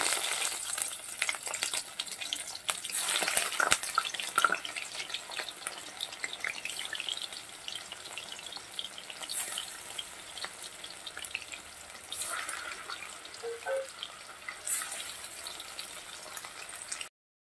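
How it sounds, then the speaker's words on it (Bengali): Fish pieces fry in hot oil in a pan on a home stove, giving a steady close crackling sizzle, with scraping turns of a spatula as the fish is flipped and a few sharper clinks and a watery splash toward the end. "মাছগুলোকে ভেজে এবার নিচ্ছি, উল্টে দিচ্ছি"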